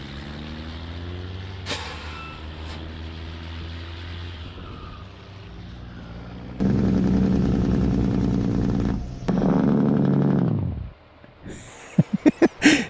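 Truck engine in Farming Simulator 22, a 1,200-horsepower rig, idling low and then revving hard through its gears in loud rising bursts, with an abrupt cutoff near the end followed by a few sharp clicks.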